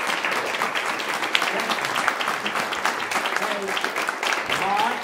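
Audience applause after a conversation honouring conductor Julius Rudel, steady clapping that fills the whole clip at moderate level, with some voices mixed in.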